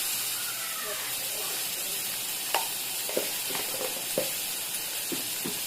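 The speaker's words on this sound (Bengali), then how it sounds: "তো তেলটা গরম হয়ে গেছে, এবার আমি আস্তে আস্তে সয়াবিনগুলো সবটা দিয়ে দেবো।" Soybean chunks hit hot oil with a soft steady sizzle and hiss, broken by a handful of sharp pops and clinks, faint and close.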